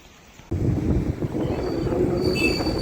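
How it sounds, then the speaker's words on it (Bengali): A train passes in the hills near Ghum, heard from a motorbike riding ahead of it. A loud, steady rumble starts abruptly after a brief quieter moment and continues, with a faint high squeal near the end. "দেখো বন্ধুরা সিনটা আমরা বাইকে পিছনে আসছে ট্রেন"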